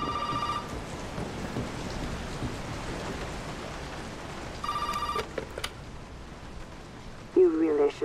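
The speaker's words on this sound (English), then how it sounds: "I hear a phone ringing." An old telephone rings inside a rain-soaked house in Resident Evil 7, with two bursts of ringing, one at the start and one about halfway, over steady rain and low rumble, and a brief sharp sound near the end.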